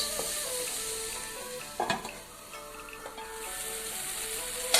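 Tomatoes and masala cooking in a pan for prawn biryani give a quiet, steady sizzle and bubble, heard close up. A louder stirring clatter comes near the middle, and no one speaks.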